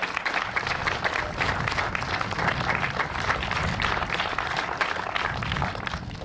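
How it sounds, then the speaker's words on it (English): Lively, dense applause from an outdoor crowd at a ribbon-cutting ceremony for a community shack built as an Eagle Scout project, with many hands clapping close by at a steady, loud level throughout. "Give John a round of applause"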